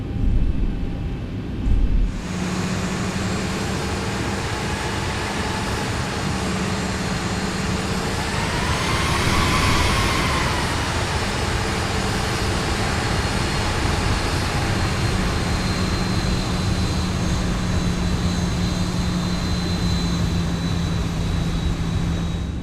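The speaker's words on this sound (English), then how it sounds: "spool up our engines, and taxi over to runway 36 center" Airliner jet engines spooling up in the X-Plane flight simulator before taxiing to the runway: a steady, loud broadband engine roar with a rising whine in the middle, continuous throughout with no voices.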